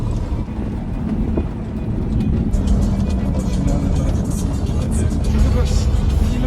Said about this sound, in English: The way to the old mill is very steep and bumpy, so it requires a 4x4 vehicle.